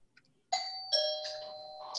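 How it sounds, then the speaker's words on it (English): A household doorbell sounds a clear two-tone chime indoors, the bright ringing notes sustaining and then fading over about two seconds with no talk. "doorbell just rang"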